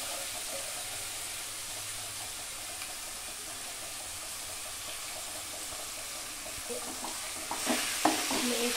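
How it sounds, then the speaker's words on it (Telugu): Small fish tossed into turmeric in a pan, a soft continuous sizzle under gentle stirring, with a few louder scraping knocks near the end and no talk. "చిన్న చేపలు ఇట్లా వేసుకొని"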